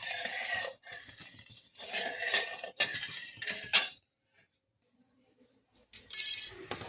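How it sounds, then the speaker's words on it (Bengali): A metal spoon stirs watermelon juice and sugar in a bowl, giving bursts of clinking and scraping against the rim, then a short pause before a brighter final clatter. "এটাকে নাড়তে হবে এইভাবে।"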